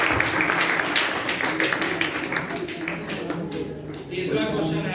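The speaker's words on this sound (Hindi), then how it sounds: "सही जवाब, तालियां।" A roomful of children applauds a correct answer during a Children's Day physics quiz, loud, dense clapping that runs throughout and thins briefly near the end before swelling again.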